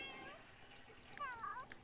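A cat in The Sims 3 gives a few short, faint meows near the end, high and bright against a quiet, near-silent background.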